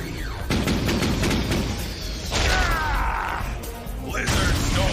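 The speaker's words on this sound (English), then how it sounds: "Firing missiles!" Animated missiles fire in a Transformers: Robots in Disguise battle, a run of loud blasts and whooshing launches with crashing impacts, coming in several surges over a few seconds.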